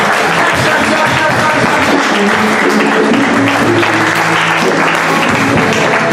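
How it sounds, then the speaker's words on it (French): A church congregation claps loudly and continuously, the dense, even applause filling the whole stretch with no pauses. "Clap for the Lord."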